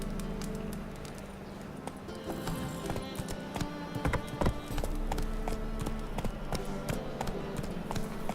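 A horse in The Witcher 3 moves along in an uneven run of hoof clops at moderate loudness. The footfalls grow denser and sharper partway through, with faint ambient noise underneath.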